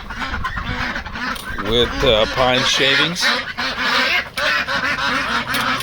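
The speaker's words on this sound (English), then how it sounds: "So these are the ducks, and this is what ducks do." Ducks quack and honk in a busy chorus inside a winter duck coop bedded with pine shavings, loud and close, with a person talking over the flock.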